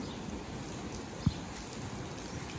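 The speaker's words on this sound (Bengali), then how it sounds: "এই যে দেখেন এখন বৃষ্টি হইতেছে কি সুন্দর বৃষ্টি হইতেছে" Rain falling outside an open window, a soft, even patter heard from a short distance, with one brief louder knock partway through and no speech.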